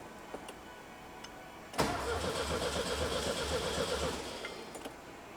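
A VW dune buggy engine cranks and struggles to start, a loud, rhythmic churning that begins abruptly and runs for a couple of seconds before fading into quieter clicks and rattles.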